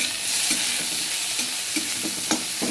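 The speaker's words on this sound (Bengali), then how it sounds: "প্রথমে দিয়ে দেবো আমি পেঁয়াজটা। পেঁয়াজটা দিয়ে দিচ্ছি" Sliced onion and split green chillies fry in a pan with a close, steady sizzle, broken by several distinct scraping stirs of a spatula.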